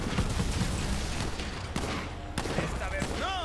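Shotgun blasts and other gunfire in the video game Borderlands 3, a run of sharp reports over a busy battle mix, with someone talking throughout.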